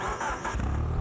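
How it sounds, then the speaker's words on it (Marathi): A modified car's engine starting up in a driving game with drifting, a short rumbling crank that rises into a revving growl over about a second, loud and close, with no talking. "आता इथे इंजिन स्टार्ट करूया"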